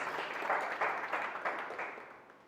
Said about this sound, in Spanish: Y le da un aplauso al Señor.